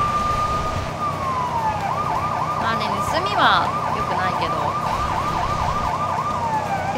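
Police car sirens in the video game LEGO City Undercover, a loud wailing and yelping siren cycling steadily over continuous engine and road noise, with a person speaking briefly over it.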